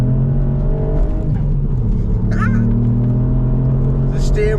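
A 200 bhp Ford Fiesta ST Mk8 hatchback engine drones steadily while driving, loud and close with a constant hum and faint tyre and road noise.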